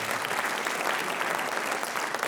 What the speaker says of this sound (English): give them one final round of applause